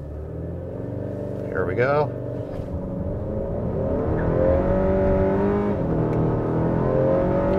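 A 10th generation Honda Civic on a Phearable Stage 4 ethanol tune, with stability control disabled, accelerates hard in second gear; the engine note climbs steadily and loud while someone talks over it.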